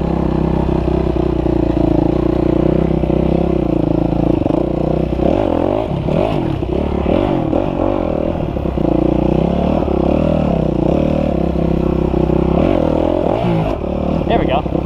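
A dirt bike engine revs loud and close during wheelie practice, its throttle rising and falling in uneven bursts, with a clattering mechanical edge and voices talking over it.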